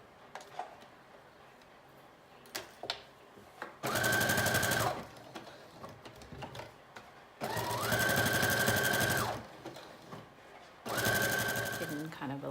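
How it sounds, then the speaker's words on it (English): A home sewing machine runs a zigzag stitch on a McCall's 7569 mermaid prom dress in three loud, steady whirring bursts of a second or two each, with someone talking and small handling clicks in between. "we're just doing the zigzag stitch again"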